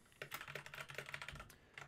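Typing on a computer keyboard: a quick, uneven run of soft key clicks and taps, close and quiet, with a few short pauses between bursts and no voices.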